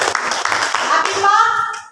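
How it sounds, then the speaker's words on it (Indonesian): A short round of clapping from a classroom of students, quick and scattered, fading out after about two seconds. "Jadi tepuk tangan untuk Peggy lagi"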